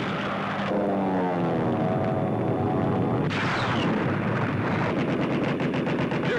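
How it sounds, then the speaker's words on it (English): Anti-aircraft gunfire from World War 2 warships under attack by Japanese planes in the Pacific, a dense continuous rattle of rapid shots with a rising aircraft drone and faster bursts toward the end. "the crew calmly fights the flames as gunners keep up their withering barrage of anti-aircraft fire"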